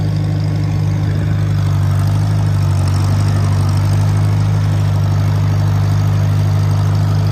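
Idling in first gear, a 1951 International Farmall tractor gives off a loud, close, steady low engine thrum with a constant heavy hum and no talking over it.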